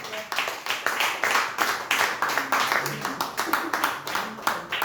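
A church congregation claps in a steady, rhythmic beat, the claps loud and close, with raised voices and faint talk mixed in beneath.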